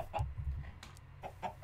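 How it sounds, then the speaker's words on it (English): Chickens clucking in the Minecraft video game, a few short, separate clucks spaced across a quiet farm scene at moderate volume, with no talking over them. "So now we have two chickens."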